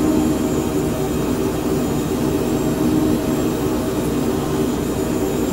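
A Phenom 100 light jet in Microsoft Flight Simulator flies on autopilot, a steady cabin drone of engine hum and airflow with a faint high whine, unchanging throughout.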